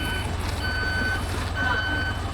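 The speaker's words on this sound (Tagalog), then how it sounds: "Pasensya na may umaatras sa truck sa likod ko." A truck reverses behind someone on a Hong Kong street, its backup alarm sounding steady high beeps over continuous engine and traffic rumble, with no talk.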